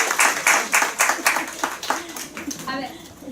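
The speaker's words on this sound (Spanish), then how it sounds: "Un aplauso para nuestros amigos que han colaborado" An audience at a political communication workshop claps for participants, a burst of rhythmic, fairly close hand claps that thins out and fades near the end.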